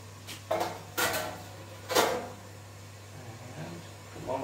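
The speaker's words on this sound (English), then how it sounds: "Get my lid on." Metal lid clanks down onto a homebrewing pot as a Belgian Tripel wort is brought to the boil, a few sharp clatters close by over a low steady hum.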